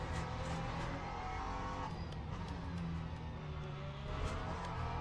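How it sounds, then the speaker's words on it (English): An LMP2 prototype race car in the Le Mans Ultimate racing game roars past at close range, a steady loud engine drone with shifting pitch throughout, no voices over it. "it always sounds so nice when an LMP2 is passing you"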